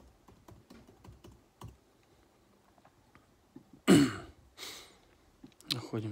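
Scattered light key taps on a laptop keyboard, soft and close, followed by a throat clearing and a couple of louder bursts near the end.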